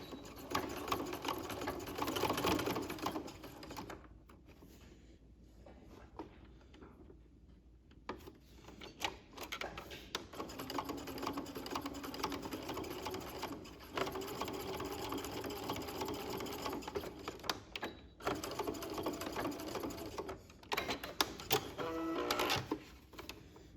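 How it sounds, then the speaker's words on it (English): A sewing machine stitches straight across the edge of bias binding fabric for an armhole, running in steady mechanical bursts with brief pauses between passes, close and alone with no talking. "over at my machine, I'm going to line up the edge of my fabric with that 1/4 inch marking on my machine, and we'll just stitch straight across"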